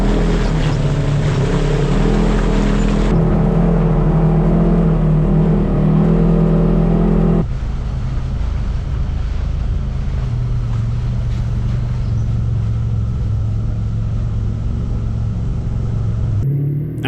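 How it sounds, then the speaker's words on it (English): A Polaris RZR UTV with a new Super ATV clutch kit and bigger tires runs on an off-road trail, its engine droning loud and close with a steady rumble that drops in pitch and intensity partway through. "thanks to Doug, my Razor is actually running a new Super ATV clutch kit because I put the bigger tires on here"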